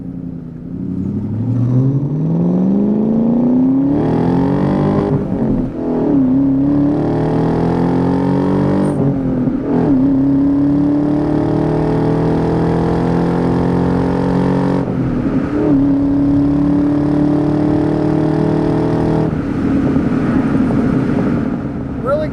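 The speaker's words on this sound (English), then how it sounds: "We're warmed up, so we'll go ahead and get in the throttle some here." A 2000 Ford Saleen's non-supercharged 4.6 V8 engine revs and accelerates hard, pitch climbing through several gear changes, loud and close throughout.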